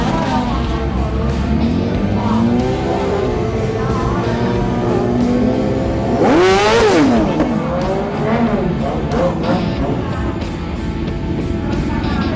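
Drag-racing motorcycle engine held at steady high revs before launch during rider selection, with a rising rev sweep midway, loud and continuous under faint voices.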